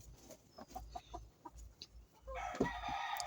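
Chickens and a rooster in a chicken house on a farm with about 81 birds, scattered clucks building to a loud crow and dense flock chatter near the end.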